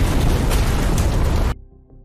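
A bomb blast in a zombie film roars as a loud, dense, sustained burst of noise for about a second and a half, then cuts off abruptly into a low, fading rumble.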